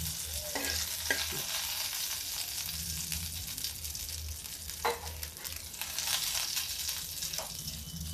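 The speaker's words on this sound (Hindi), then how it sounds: "सिर्फ जीरे का तड़का।" Steady crackling sizzle of cumin seeds frying in hot oil for arhar dal, continuous throughout, with occasional louder pops and clinks of a utensil stirring.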